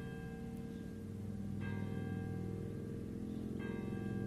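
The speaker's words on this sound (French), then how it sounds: "3 tintements sur une cloche, donc la première séquence de la prière" A single church bell in Vézelise, Lorraine, rings the Angelus, a sustained ringing tone with two distinct strikes about two seconds apart, each leaving a long humming decay.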